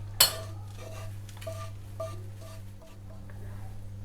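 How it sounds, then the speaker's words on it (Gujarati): Roasted flour for a stuffed green chilli filling is scraped out of a pan into a vessel: one sharp metallic clank, then a series of ringing spoon taps and scrapes against steel. "તો ગેસની ફ્લેમ બંધ કરી દઈશું અને એક વાસણમાં લોટને કાઢી લઈશું"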